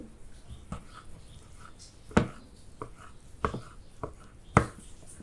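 A knife chops a fried egg on a cutting board in sharp, irregular taps, a handful of distinct strikes spread out against a quiet background.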